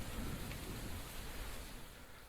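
Rain falls steadily as a dense, soft hiss of drops, faint and continuous, gradually easing slightly, with no voices.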